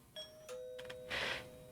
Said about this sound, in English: Ding dong! Oh no,